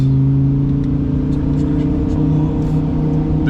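A twin-turbo Audi R8 running ethanol fuel accelerates under an interstate bridge, its loud, close engine droning steadily with strong low harmonics that echo off the structure, with no talking.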